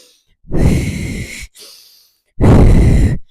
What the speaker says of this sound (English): I mean the focused, deep breathing.